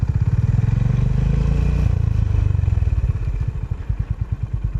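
A motorcycle engine chugs with a rapid, throbbing rhythm, revving steadily up close while riding before settling into a slower idle-like putter.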